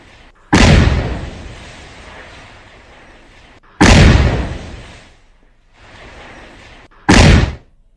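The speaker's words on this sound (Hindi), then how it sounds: "त्राल में आसिफ शेख का घर धमाके में उड़ गया।" A house is destroyed by bomb blasts, heard as three loud, sudden booms with rumbling decay between them, each one sharp and powerful, with no voices.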